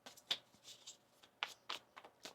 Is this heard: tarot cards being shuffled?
yes